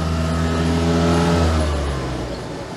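An Autobianchi Bianchina van's small engine revs hard and steadily at high pitch, a loud continuous drone that eases slightly toward the end.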